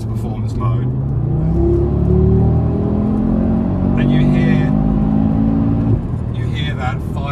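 A car engine growls and revs as it accelerates, a steady low rumble rising in pitch, with a brief spoken word near the start.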